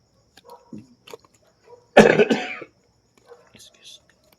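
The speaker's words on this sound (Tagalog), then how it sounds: "Yun yung may ubo ako ngayon" A single harsh cough erupts close to the mic, broken into a couple of rough bursts, surrounded by faint quiet murmurs and breaths.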